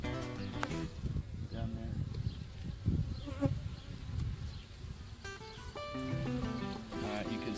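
Bees buzz around a hive in a steady, close droning swarm with rising and falling individual passes, while a person says a few words partway through.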